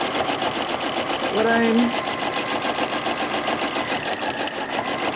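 A sewing machine hums continuously and loudly while stitching a feathered border in free motion quilting, with a person talking over the drone.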